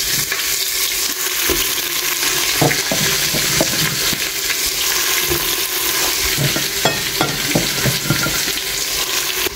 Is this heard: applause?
no